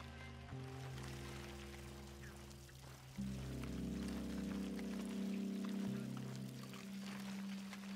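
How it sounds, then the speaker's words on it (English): Moonshine poured in Red Dead Redemption 2, a steady quiet liquid stream that runs continuously for several seconds, changing pitch as the vessel fills. "So much pouring. So much wasting of moonshine."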